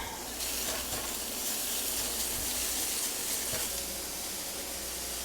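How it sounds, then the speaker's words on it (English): Bacon strips sizzling inside a Ninja Foodi oven, a steady loud broadband hiss and crackle running unbroken from start to finish with no talking. "yes, we always love that sizzle"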